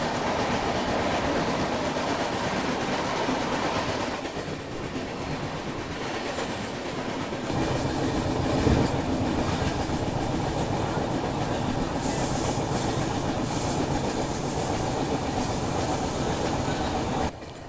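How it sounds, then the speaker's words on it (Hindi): The Vivek Express passenger train runs on rails with a steady rolling rumble and clatter of wheels over the track, occasional thumps, and a high metallic squeal rising in the later part. "हमारी ट्रेन गुजर रही है"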